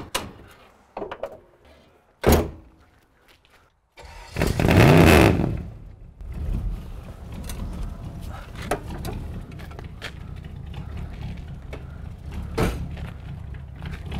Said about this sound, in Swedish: Nej, det är ingen bra motorljud i det här.